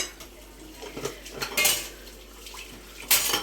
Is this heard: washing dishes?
yes